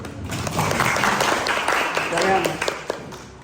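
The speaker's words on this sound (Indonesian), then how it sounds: "Oke, beri aplaus." A school class gives a round of applause, with many hands clapping for a few seconds and a voice talking over the clapping.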